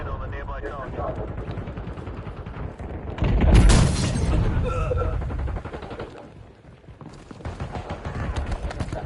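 A grenade explodes in the Battlefield video game amid gunfire, a sudden loud close blast with a rumbling tail that sits over a busy mix of battle noise and game voices.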